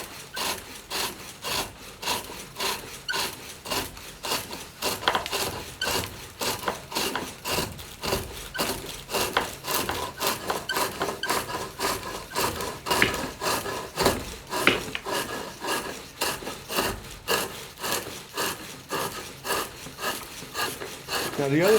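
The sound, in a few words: turning poplar wood on a pole lathe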